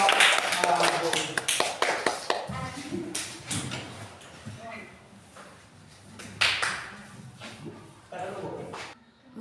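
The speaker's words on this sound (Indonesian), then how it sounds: "beri tepuk tangan untuk kelompok 1" A classroom of children claps for a student group during an Islamic religious studies lesson, a scattered burst of hand claps at the start that thins into occasional taps and shuffling, with a teacher's voice talking over the room.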